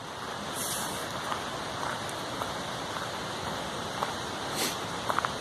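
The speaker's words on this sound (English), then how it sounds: "River meets river there." Two rivers meet in the Yorkshire Dales in November, their flowing water making a steady, rushing broadband hiss, with a few faint splashes and ticks above the constant flow.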